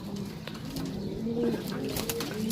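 Pigeons kept for sale coo softly in a brief, faint passage with low background noise.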